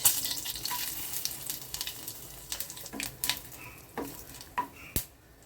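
Bay leaf, dried chilli, cinnamon, cloves and cardamom sizzle faintly in hot oil, with scattered clinks and scrapes of a spoon against the pan, quiet and close.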